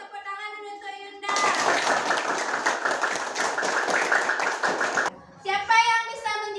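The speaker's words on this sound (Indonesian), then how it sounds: "Kasih tepuk tangan dulu untuk Yunda." A classroom of children claps together in a dense burst of applause lasting several seconds, framed by children's voices before and after.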